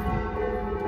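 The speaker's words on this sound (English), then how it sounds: "Sounds like some church bells are coming from behind Parco Villa Filipina also." Church bells ring for Sunday Mass in Sicily, coming from a distance as a steady, sustained tonal ringing over a faint outdoor background, with no voices.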